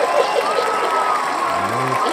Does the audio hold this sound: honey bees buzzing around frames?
no